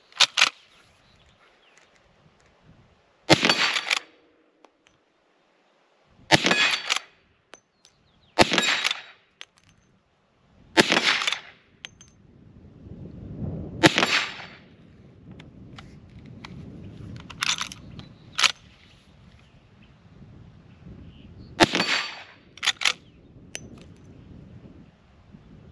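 A Miroku-made 1873 Winchester lever-action rifle fires Remington 125 grain +P hollow points outdoors, about nine loud, sharp shots spread unevenly with pauses between, each followed by the clack of the lever cycling.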